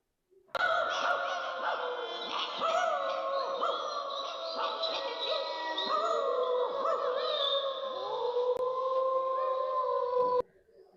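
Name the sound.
dog crying or howling at night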